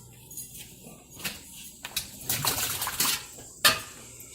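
Peeled, scalded peaches poured into a bowl of cold water while home canning, giving scattered splashes and clinks that build into a louder watery tumble, with a final sharp splash near the end.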